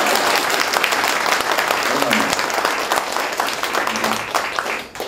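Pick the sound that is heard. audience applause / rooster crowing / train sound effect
audience applause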